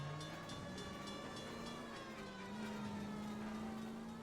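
A streetcar rumbles along in the LA Noire video game during a chase, heard as a continuous low mechanical drone with a steady tonal whine and a faint metallic ringing overtone, even and unbroken throughout.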